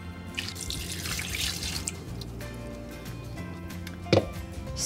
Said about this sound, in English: Pour it over your chicken.